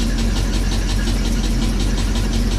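A GMC 350 V8 idles roughly with the throttle held open because its heated choke is not working, a steady loud mechanical drone with a throbbing pulse and no talking.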